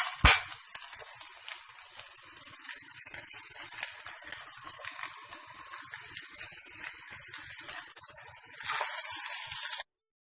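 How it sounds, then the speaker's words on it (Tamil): Green beans for beans poriyal sautéing in a pan: a steady, soft hiss and sizzle throughout, rising to a brighter burst near the end, with no talk. "பீன்ஸ் மட்டும் இன்னும் கொஞ்சம் நேரம் வதங்கினதுக்கப்புறமா தேங்காய் போட்டுட்டு அவ்வளோதான்."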